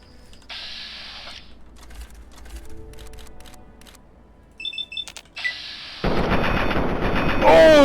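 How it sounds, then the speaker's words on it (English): Gunfire in Fallout 3 against super mutants: scattered sharp shots early on, then a loud, dense burst of firing and blasts in the final seconds, with no talking. "I shot the grenade out of his hand"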